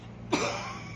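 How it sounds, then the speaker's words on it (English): A single sharp, close cough from an emergency room patient with a weeks-long cough, night sweats and fever, brief and alone before quiet. "this terrible cough"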